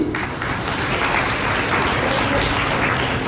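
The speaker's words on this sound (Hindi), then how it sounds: "जो लाए हैं उनके लिए ताली बजाइए" Sunday church congregation clapping for members who brought pens and diaries, a loud, dense, steady roar of applause across the whole stretch, close and continuous without speech.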